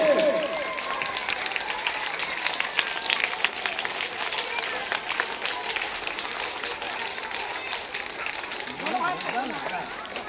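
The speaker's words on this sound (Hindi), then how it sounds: "तालियां बजती रहनी चाहिए बच्चों, तालियां बजाने में कंजूसी न करें" Schoolchildren clap continuously in a school courtyard during a Children's Day celebration at Nalanda Public School, a busy, moderately distant crowd applause with voices and chatter mixed throughout.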